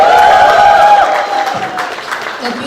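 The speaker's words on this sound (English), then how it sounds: "So let's hear a round of applause for Golden Touch Productions." Audience applause at a film media conference with Salman Khan, heard only briefly and partly masked by a loud tonal sound over the clapping.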